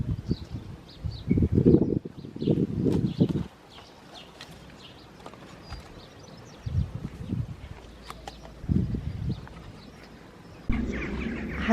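Birds chirp in an allotment garden among newly planted brassicas, with light, scattered high calls over close, heavy rustling and thumping from garden work.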